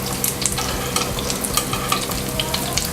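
A breaded fish fillet frying on a tawa over a medium flame makes a loud, continuous crackling sizzle, dense with small pops and spatters throughout.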